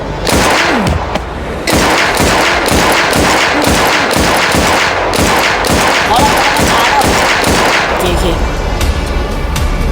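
Rapid bursts of video game gunfire ring out while defending against zombies in an abandoned house in MelonSandbox, loud, dense rhythmic shots over about eight seconds before tailing off into a low rumble.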